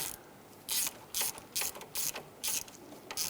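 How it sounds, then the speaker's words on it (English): A hand ratchet snugs down an exhaust manifold nut on a 1999–2004 Jeep Grand Cherokee with a 4.7L V8. About six quick bursts of clicking come in a steady rhythm, close and crisp, with nothing else heard. "Go ahead and snug that nut down."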